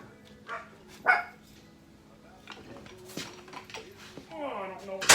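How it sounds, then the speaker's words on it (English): A dog barks a few short, sharp times indoors, with dishes and cutlery clattering nearby and a person talking in between. "Crazy dog."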